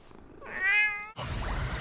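A cat gives a single clear, close meow that rises and falls, followed by a burst of broadband rustling noise, with no voices present.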